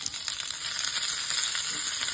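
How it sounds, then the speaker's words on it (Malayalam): Curry leaves frying in hot oil in a pan for Kerala erissery curry, a steady bright sizzle that holds evenly throughout with faint stirring underneath. "കറിവേപ്പിലയും കൂടെ ചേർത്ത് നമുക്കിതൊന്ന് വറുത്തെടുക്കാം."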